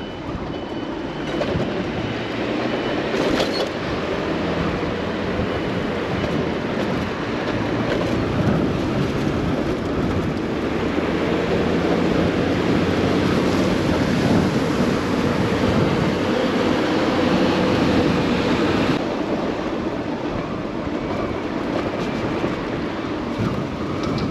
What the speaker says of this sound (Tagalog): Wow, ang lakas po ng hangin